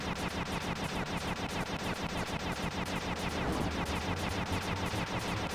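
Rapid, relentless gunfire from enemies in Sly 2: Band of Thieves, a dense stream of shots rattling continuously at steady volume throughout, with no voices over it.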